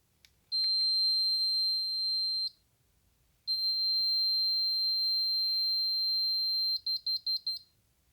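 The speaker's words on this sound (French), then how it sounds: "normalement la box doit faire 4 bips courts pour vous indiquer que cela s'est bien passé" A MyBiossun home automation box gives two long, loud electronic tones followed by a quick burst of four short beeps confirming that a virtual transmitter has paired, in a quiet room with no talking.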